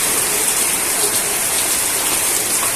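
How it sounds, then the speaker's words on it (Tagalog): Steady rain pours down outdoors during riverside foraging and cooking, a dense, continuous hiss of falling water that fills the whole stretch with no letup. "abot kami ng ulan"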